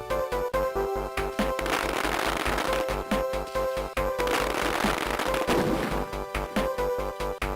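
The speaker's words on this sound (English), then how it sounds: "Fireworks." Fireworks from the Game Boy Advance Donkey Kong Country credits: a dense run of loud crackling bursts and sharp pops, repeating rapidly and steadily over a bright synthesized backdrop, with no talking.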